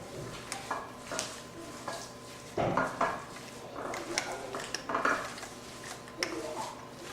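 Meatloaf mixture is mixed in a bowl, giving intermittent clinks and knocks of utensil against dish with soft squelching between, close and fairly quiet.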